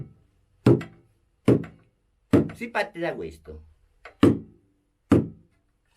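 An old, battered drum is struck with dull single thuds at a slow, steady pace, close and dry, with an Italian-speaking voice talking briefly between the hits.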